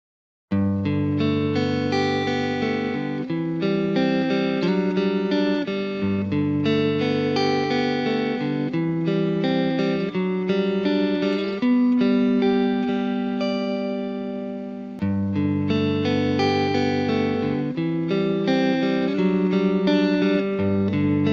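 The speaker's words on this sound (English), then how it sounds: "Same guitar, same strings, no reverb, no compression, straight out of my amp, unprocessed, blind test." An electric guitar runs straight into an amp with no reverb or compression, playing sustained chords and picked notes continuously and fairly loud, with a short break midway.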